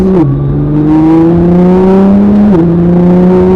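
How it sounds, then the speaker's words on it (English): A Nissan GT-R on a canyon road gives a loud, close engine drone that climbs steadily in pitch, dipping briefly at two gear changes before pulling up again. "a little bit of gas, let go of the gas, brake, let go, gas, slight gas, and accelerate forward"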